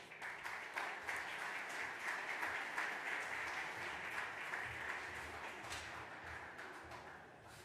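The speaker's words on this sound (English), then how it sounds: "Applause, please." An audience at an opening ceremony in the Heinz History Center applauding Allegheny County Executive Rich Fitzgerald and Pittsburgh Mayor Ed Gainey, a steady wash of many hands clapping, fairly distant, tapering slightly at the end.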